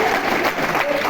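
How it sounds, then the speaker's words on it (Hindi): A short burst of audience applause in an auditorium at a corporate event, dense steady clapping from a large seated crowd, fairly loud and unbroken. "फैंटास्टिक, जोरदार तालियां।"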